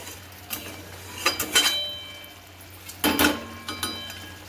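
A spoon stirring salt into a curd catla fish curry in a pan, a few short bursts of clinking and scraping against the pot, separated by quiet pauses.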